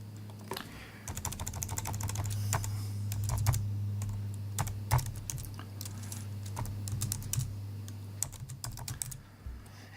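Rapid keystrokes on a computer keyboard while coding HTML and CSS, including presses of the tab key, clicking in uneven bursts close to the mic over a steady low electrical hum, with no talking.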